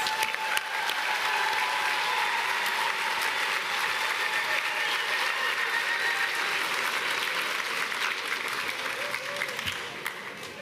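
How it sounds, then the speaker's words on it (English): Sustained applause from a large crowd, dense steady clapping that carries on for several seconds before gradually tapering off slightly. "another round of applause for the graduates."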